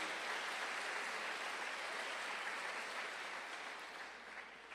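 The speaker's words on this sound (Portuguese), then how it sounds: "Se é para Jesus, aplaude forte" A church congregation applauds during a sermon: a dense, steady wash of clapping from many hands that holds evenly and fades slightly at the end, with no talk over it.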